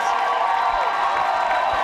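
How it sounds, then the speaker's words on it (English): The stands at a European touch rugby championship in Vichy, France, keep up a loud, continuous crowd roar of cheering and whooping after a Belgian score. "It's the loudest cheer we've had all day."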